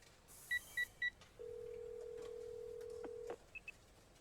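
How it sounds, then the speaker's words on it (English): Telephone dialing tones in the video game ACE Academy: three short keypad beeps, then a long steady tone lasting about two seconds, followed by two brief beeps, clean and close over near silence. "Without thinking, I pull out my phone and dial the first name that comes to mind."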